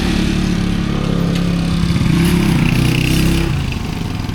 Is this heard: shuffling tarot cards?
no